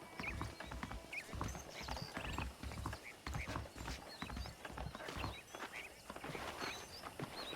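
Steady, rhythmic clip-clop of horse hooves at a walking pace in the video game Red Dead Redemption, close and continuous, with faint bird calls and ambient noise in the background.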